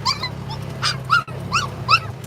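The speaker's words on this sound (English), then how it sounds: "Here's Al's dogs" Several dogs at a campsite bark in short bursts mixed with high whimpers and yips, close and fairly loud over a low steady hum, with no talk.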